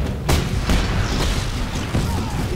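An overpowered gun in Just Cause 3 fires in heavy, booming bursts, several loud low thumps in quick, uneven succession that fill the mix.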